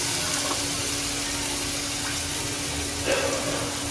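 Water pours into spice paste in a pan, a steady rushing, gurgling wash that runs close and even for the whole few seconds, with no talking.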